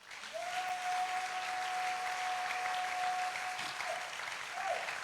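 A church congregation claps together in sustained, dense applause that fills the room evenly for several seconds, with a faint tone running underneath and no one speaking over it.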